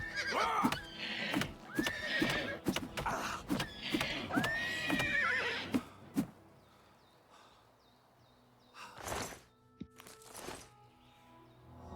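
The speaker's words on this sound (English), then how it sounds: "Never thought I'd spend a day punching a horse." Horse in the Oblivion Remastered video game neighing and whinnying repeatedly amid hoof clops and sharp punch impacts, with game sounds and a later gap of quiet broken by a couple more whinnies.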